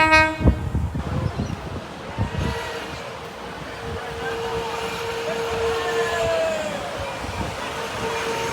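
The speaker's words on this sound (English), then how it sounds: "I'm waiting for this train to go." A Sydney Tangara passenger train rumbles and rolls away after a short horn toot at the start, the noise of wheels and motors sustaining steadily throughout.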